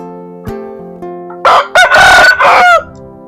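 Backyard coop chickens: a rooster crows loudly up close in a long drawn-out call, with shorter clucks and calls from other fowl just before it.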